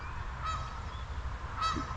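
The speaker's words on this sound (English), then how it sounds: "Geese are giving me a welcome" Two loud honks from geese near a ball field and park, spaced about a second apart, over a low steady rumble of outdoor background noise.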